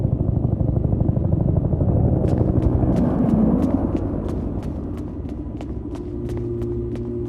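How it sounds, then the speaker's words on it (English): An evacuation helicopter approaches in an audio drama: a low, heavy rumble swells and then eases, joined by a rapid, steady series of sharp rotor-like clicks that keeps going to the end. "Is that the evac chopper?"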